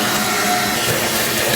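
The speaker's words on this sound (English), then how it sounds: "what you're gonna see me do is literally vacuum up the excess here" A vacuum cleaner runs steadily while sucking up loosened dirt from a car's driver-side floorboard during interior detailing, a continuous loud broadband whoosh filling the whole short stretch with no pauses.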